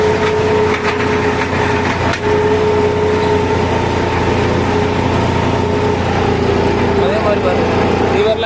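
A John Deere 5310 tractor pulling a 9-tyne spring cultivator through sandy field soil, its engine droning loud and steady at constant load throughout, with someone talking over it.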